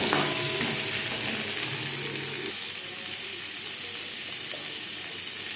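Boiled potato pieces frying in a spoonful of mustard oil, a steady close sizzle with faint stirring clatter throughout, no talk.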